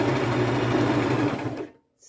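A sewing machine runs steadily, stitching layered upcycled fabric over a pinned pleat in a boho outfit, a continuous close motor whir that stops abruptly near the end, leaving a brief silence before faint room noise.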